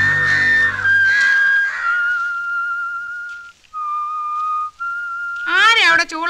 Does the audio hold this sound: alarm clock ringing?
no